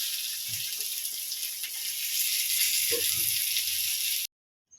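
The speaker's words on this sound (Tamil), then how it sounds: "மீன் நல்லா பொரிஞ்சிருச்சு அப்போ நம்ம திருப்பி போட்டுப்போம்" Fish frying in hot oil with a continuous sizzle and a few rattling clatters as the pieces are turned over, ending abruptly.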